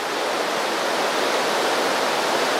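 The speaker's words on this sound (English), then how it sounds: "What's next to me is kind of a raging river." A raging river swollen with snowmelt rushes in a dense, loud, continuous roar of churning water, close by and steady throughout.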